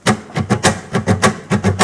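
Quick percussive knocks on a hollow wooden guitar body, struck in a fast, uneven rhythm like a flurry of punches, close and fairly loud.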